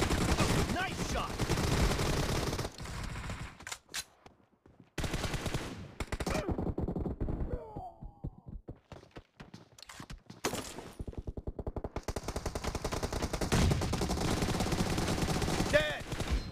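M416 rifle fire in a video game: rapid automatic bursts ring out loud and close, broken by short pauses and quieter stretches, then resume in long sustained volleys near the end.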